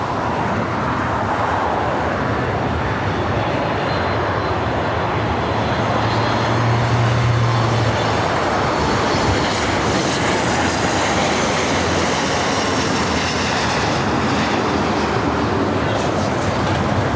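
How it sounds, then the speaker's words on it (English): A United Boeing 737 MAX 9 airliner, Flight 311 from Boston, arriving at LAX, its jet engines making a loud, steady broadband roar that holds throughout without pause. "our first arrival is a United flight coming up from Boston, Flight 311. It's a 737 MAX 9"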